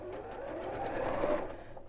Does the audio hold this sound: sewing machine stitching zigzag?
yes